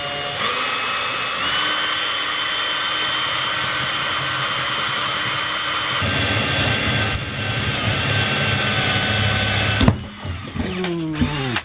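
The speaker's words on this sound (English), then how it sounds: "I'm going to drill this one. It doesn't matter if this is a bit big or not. I'm going to try a fastener bit in it on slow speed." A power drill fitted with a fastener bit bores slowly through plastic, a steady sustained whine and grind running close and loud for most of the stretch before stopping abruptly near the end, followed by brief handling noise.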